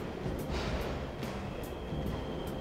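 Train in the Persona 5 Royal video game rumbling past at a steady level, with a continuous rolling roar, faint wheel hiss and soft rhythmic clatter; moderately distant and constant, no voices.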